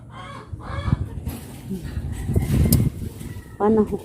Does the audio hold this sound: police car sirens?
no